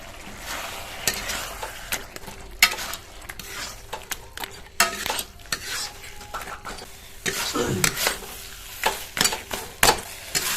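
Fish head and green chili paste stirred into spinach in a pan, with intermittent sizzling and scraping of a spoon against the pot, loud clattering bursts between quieter frying hiss.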